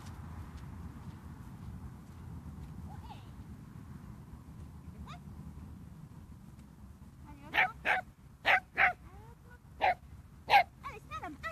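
A dog barks in a quick series of sharp barks near the end, after a stretch of quiet outdoor background with faint voices.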